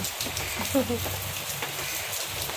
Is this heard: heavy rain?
yes